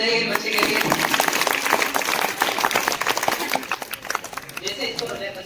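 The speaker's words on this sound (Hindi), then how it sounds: "तालियां बजाइए बच्चे के लिए" An audience at a school quiz competition claps for a child in a dense burst of applause that fades toward the end, with speech mixed in.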